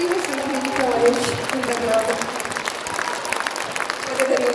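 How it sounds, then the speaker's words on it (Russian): Audience applause at a festive concert hall performance, steady and fairly close, with voices and some talk mixed in among the clapping. "Аплодисменты, друзья!"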